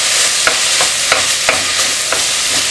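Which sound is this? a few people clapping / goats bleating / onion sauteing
onion sauteing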